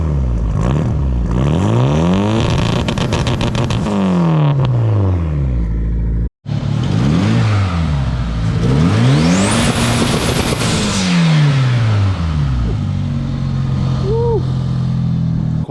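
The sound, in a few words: Mitsubishi Galant VR4 big turbo engine revving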